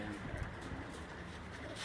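Soft pigeon cooing in a short burst from pigeons settling on a rooftop loft in Gujranwala, low and muffled, over steady background noise and murmuring voices.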